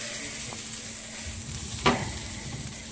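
London broil steak and onions sizzling in a pan, a soft steady sizzle with a few quiet clicks and one brief clatter from the pan partway through.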